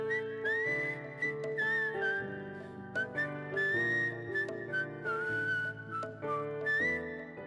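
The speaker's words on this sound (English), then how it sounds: "I whistle in the song." A man whistles a clear, bright melody as part of a soul song, close and prominent over a soft instrumental backing of sustained chords and bass.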